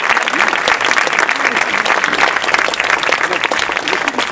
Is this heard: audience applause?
yes